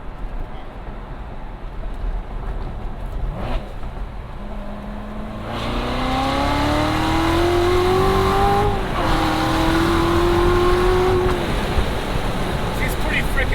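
A Chevrolet Corvette C7 Z06 accelerates hard from inside the cabin, its engine note climbing through the gears with a brief shift dip, over steady road rumble while people talk.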